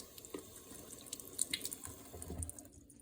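Tap water runs into a sink while hands are wetted before working salt into sourdough, a steady splashing stream with small irregular drips, close and fairly quiet, fading out at the end.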